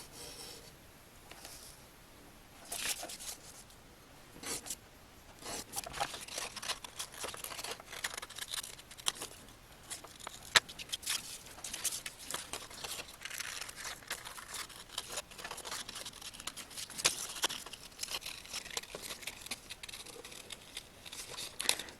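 Scissors snip and rasp through colored paper while a mandala is cut out, with steady close crinkling, rubbing and cutting sounds over a long stretch and no talking.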